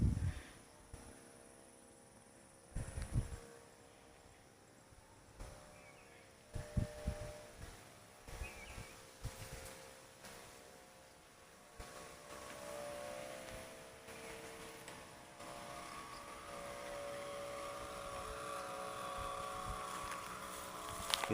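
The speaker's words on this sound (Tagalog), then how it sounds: "Umihiyaw yung tansi natin." A kite's nylon fishing line hums in strong typhoon wind outdoors, a thin sustained tone that wavers under gusty buffeting and low rumbles of wind, fairly faint and steady, with no talking.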